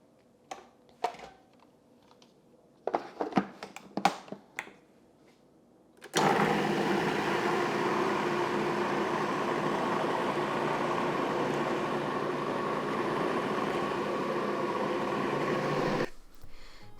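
A food processor blends red peppers and garlic for a paste, running as a steady, loud motor whir with grinding for about ten seconds, preceded by scattered clicks and knocks of loading and starting the machine.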